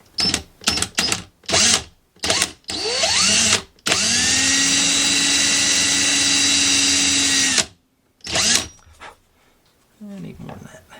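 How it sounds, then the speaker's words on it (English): A close power drill with a step bit whines steadily for several seconds after a few short bursts, with a person talking before and after the drilling. "got my little drill with my step bit in."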